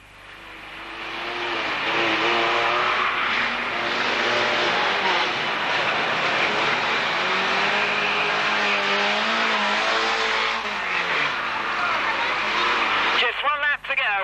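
Racing vans circling a track at a 1991 club van meeting: a loud, sustained engine drone swells and holds as the vehicles pass, and a race commentator talks over it throughout.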